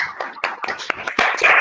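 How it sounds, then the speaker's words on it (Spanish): Scattered applause from a few online participants in a psychology videoconference, uneven and sparse claps coming through separate microphones, close and somewhat clipped, lasting only a moment. "ahora sí pueden habilitar los micrófonos para pegar unos merecidos aplausos en este caso a Natalia Schmidt"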